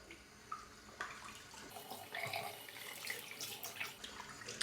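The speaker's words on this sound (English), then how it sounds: "I'm going to rinse this out with cold water." Cold tap water rinsing leftover lather out of a shaving soap tub, a soft, uneven splashing and trickling close by with faint drips.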